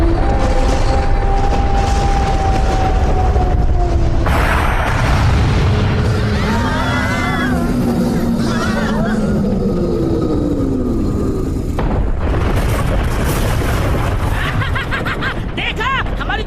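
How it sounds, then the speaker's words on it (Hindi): A loud cartoon cannon blast in a Doraemon episode, a heavy boom with rumbling decay, set amid energetic character voices and sound effects that run on throughout. "देखा हमारी तेज आवाज वाली तोप की ताकत को"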